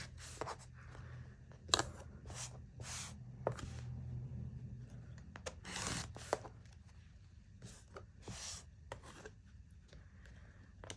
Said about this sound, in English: now I'm going to trim off my excess